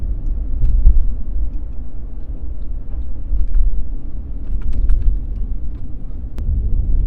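Ram 1500 pickup with a Borla S-Type exhaust cruising in 6th gear at low revs, a deep, steady engine rumble heard from inside the cab with scattered light rattles and no speech.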